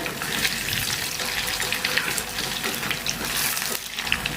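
Mutton keema balls fry in hot oil over a medium flame, giving off a continuous bubbling sizzle, close and even, with no voices.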